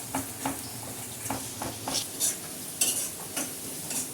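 Masala spices roasting in ghee in a pan for black chickpea curry, stirred in repeated scraping strokes with a soft sizzle underneath, close and moderately quiet with no talking.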